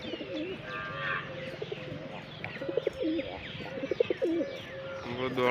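Pigeons coo steadily while being fed grain and water, a close chorus of soft repeated coos with some chirps and light scuffling, no talk.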